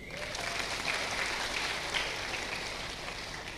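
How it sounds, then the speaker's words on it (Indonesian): Steady, dense applause from a church congregation, a continuous wash of clapping with no voices standing out. "Tepuk tangan dulu."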